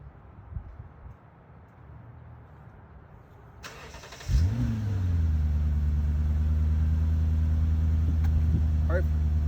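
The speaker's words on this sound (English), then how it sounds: "We're gonna crank up the car and we're gonna see if it works." A car engine with an exhaust silencer fitted cranks and fires about four seconds in, then settles into a steady, fairly loud low idle after quiet handling noises and brief talk.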